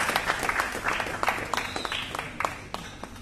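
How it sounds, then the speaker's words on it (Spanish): Applause from an auditorium audience following a big band performance: scattered, moderately faint clapping with individual sharp claps standing out, thinning gradually toward the end. "Otro aplauso, otro aplauso."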